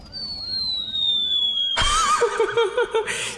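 A police car siren in the Roblox game wails in a repeated rising and falling pattern. It is then cut off by a sudden loud burst of mixed game noise with pulsing tones.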